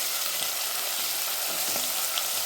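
Onions and curry leaves sauté over high flame in a pan for a mochai and potato kuzhambu, giving a steady, close, continuous sizzle and crackle of hot oil with no speech.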